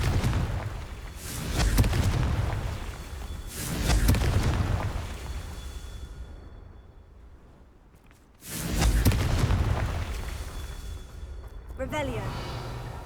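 The Confringo blasting spell detonates in Hogwarts Legacy, heavy booming blasts that swell and fade twice, with a quieter stretch between them and a sparkling crackle near the end, under a spoken voice.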